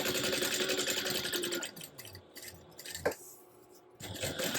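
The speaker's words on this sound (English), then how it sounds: "we're going to be stitching on the card slot part, 1/8 of an inch away from that seam we just made." A sewing machine stitches the card slot piece of a crossbody bag, 1/8 inch from a seam, with a steady close whir that slows and stops, followed by a few light clicks and handling knocks.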